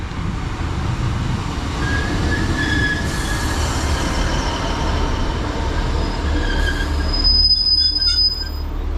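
A passenger train, class 153, rumbles into a station loud and close, its wheels squealing in long high-pitched whines as it slows, with a sharper screech near the end.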